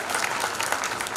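Audience applause at a Hindi comedy poetry show, a steady dense wash of clapping that holds evenly through the short stretch with no voices over it.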